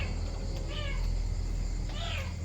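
A cat gives two faint, short meows, spaced about a second apart, almost buried under a constant loud hum and outdoor background noise.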